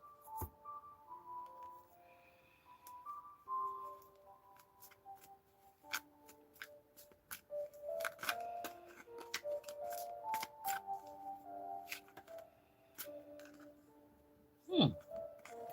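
Tarot cards being shuffled by hand, a series of quiet riffling snaps and soft flicks in irregular bursts, with occasional light clinks, close up and without talk.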